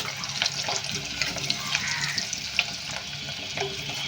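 Drumstick pieces frying in turmeric-tinged oil, a steady bubbling sizzle with light clinks and crackles spread throughout, fairly close.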